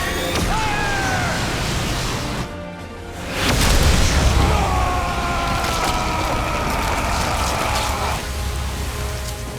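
A huge energy blast fires from the victory cannon in The Wonderful 101 final boss fight, a loud booming surge swelling after a brief lull and roaring on with layered game effects and music.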